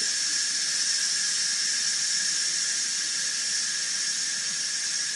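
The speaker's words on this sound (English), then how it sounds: "The steam is coming out." Steam hisses steadily and loudly from an Instant Pot's release valve after it is switched off from keep warm, a constant bright jet with no breaks and no talking.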